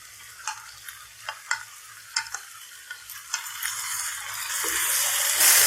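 Spices that have been roasting for two minutes crackle and sizzle in a pan as tomatoes are stirred in, with sharp scraping ticks at first and then a steadily rising frying hiss near the end; no one speaks.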